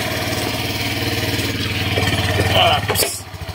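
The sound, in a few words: motorcycle engine started and idling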